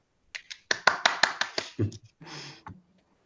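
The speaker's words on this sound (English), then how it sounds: "give Sister Jenti a very big round of applause" Sparse clapping from a small audience at a community meeting about supporting youth through Covid, a quick run of distinct hand claps that fades into a softer rustling tail.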